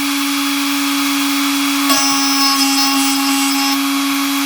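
An Ilco Orion KD94 key duplicator milling a tubular key blank, a steady high whining motor hum with a brief scrape of the cutter partway through, close and continuous.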